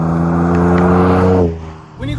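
Ford F-150 pickup truck on a test drive after a tune: a loud, close engine hum that holds steady, then drops off, followed by a brief squeak as it resumes.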